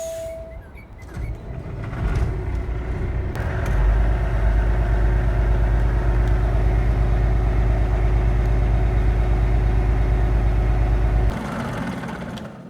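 A Peterbilt truck with a Cummins ISX diesel engine in Farming Simulator 22 runs at a steady idle, a deep continuous rumble that swells slightly after a few seconds, then eases back near the end.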